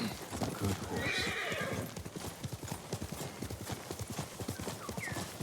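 Rapid, rhythmic hoofbeats of a galloping horse in the video game Ghost of Tsushima, steady and close, with a brief whinny near the start and faint background ambience.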